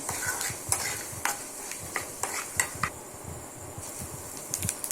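Chana dal and urad dal fry in hot oil while being stirred, a light sizzle under frequent rattling scrapes and clinks of a spoon against the pan, close and fairly quiet.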